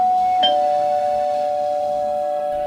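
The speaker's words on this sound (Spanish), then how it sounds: "Una noche, el timbre sonó." A doorbell rings once with a bright ding, its tone holding and slowly fading in a quiet room.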